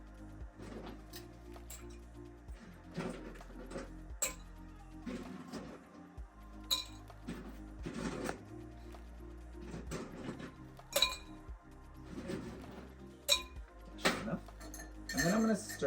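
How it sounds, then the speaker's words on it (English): Ice goes into a cocktail mixing glass for a Manhattan: a series of sharp, close clinks and knocks in irregular bursts, separated by quieter pauses. "Now I'm going to add some ice to my mixing glass."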